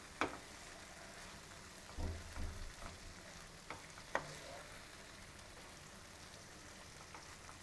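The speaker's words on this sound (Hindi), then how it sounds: "बस हम एंड में पनीर ऐड करके इसको अच्छे से मिक्स कर देंगे" Paneer stirred into a cooking dish in a pan: a faint, steady sizzle with a few scattered spoon scrapes and knocks over the stir, and no talk.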